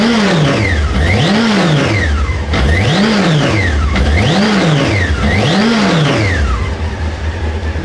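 Honda CB600F motorcycle engine revved with its air filter fitted, four smooth, loud rising-and-falling revs in a steady rhythm over a constant idle, close by.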